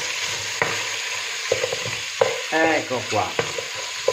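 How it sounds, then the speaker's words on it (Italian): Fish heads and bones sauté in a pan with garlic and parsley, giving a steady sizzle with clinks and scrapes of stirring. Someone speaks briefly over the cooking. "Gli scarti li mettiamo subito a cuocere assieme ad aglio e prezzemolo"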